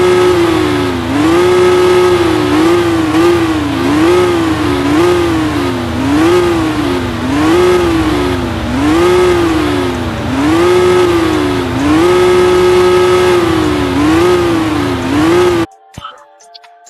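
A Lamborghini Veneno's engine in the video game Car Simulator 2 revs repeatedly, its pitch rising and falling in regular waves, loud and close, cutting off abruptly near the end.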